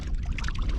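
A caught bass slips back into lake water from a boat, giving a short, close watery splash and pour-like rush that fills the brief moment.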